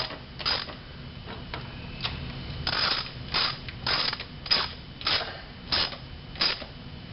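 Valve cover bolts being ratcheted down on a Toyota 22RE engine, a close, steady series of short clicking ratchet bursts repeating roughly every half second with no voices.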